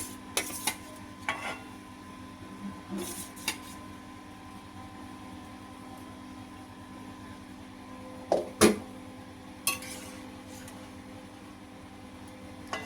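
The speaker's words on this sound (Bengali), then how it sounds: "এবার এই যে ভেজে রাখা বেগুন আর এই মাছগুলো সেটার মধ্যে দিয়ে দেবো।" Fried eggplant pieces and hilsa fish go into a pan of half-cooked potatoes for a mustard curry, giving a few short clinks and thuds over a low steady kitchen hum, with quiet gaps between.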